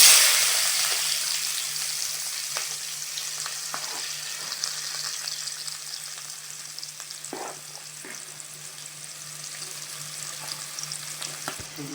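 Chopped onions fry in hot oil in a pan for an egg curry, giving a close, steady sizzle with faint crackles and an occasional stir all the way through.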